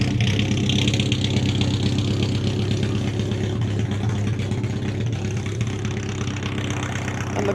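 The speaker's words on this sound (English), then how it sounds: "We've got the Anglia just purring along." A Ford Anglia hot rod idling in the pits at a hot rod drags event, a steady low rumble with a slightly uneven pulse, close and continuous throughout with general crowd bustle behind.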